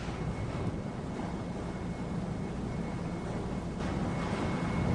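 A laboratory centrifuge, balanced with water-filled tubes, runs with a steady broadband whir and a faint thin whine, growing slightly louder toward the end.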